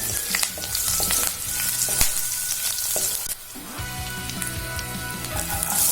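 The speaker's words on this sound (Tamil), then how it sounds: "எண்ணெய் காஞ்சதும் இஞ்சி, கருவேப்பிலை, பச்சை மிளகாய் முதல்ல இதை நல்லா வதக்கிக்கலாம்." Ginger, curry leaves and green chillies sauté in hot oil for a chilli idli, giving a steady loud sizzle with crackling bursts and stirring scrapes throughout.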